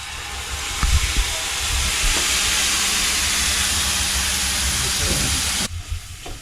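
Turmeric and coconut milk hitting a hot cooking pan, giving a loud steady hiss and steamy sizzle that runs almost the whole time with faint clinks, then cuts off abruptly near the end.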